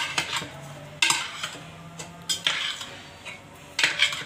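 A spoon scrapes and clinks against a pot while boiled rice is mixed with oil and sugar for sweet mutanjan rice, with several sharp metallic knocks spaced between quieter stirring.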